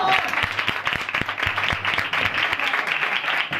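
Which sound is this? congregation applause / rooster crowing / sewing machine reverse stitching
congregation applause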